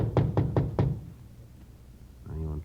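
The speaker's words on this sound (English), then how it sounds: "went up to the 4th floor and knocked at the door." Four firm knocks land on a door in quick even succession, close and dry as a radio drama effect, followed by quiet and then a muffled voice.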